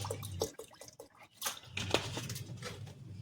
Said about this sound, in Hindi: तो इसमें पानी डालेंगे, पानी डाल के पका लेंगे,